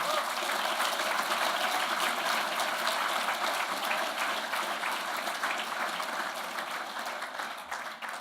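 Audience at an award ceremony gives a sustained round of applause, a thick even patter of many hands at moderate distance that slowly tapers toward the end.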